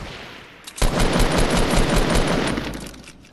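A rapid automatic gun burst in the video game Fortnite, a dense rattling volley of closely spaced shots that starts abruptly, runs loud for about two seconds, then fades, heard alone.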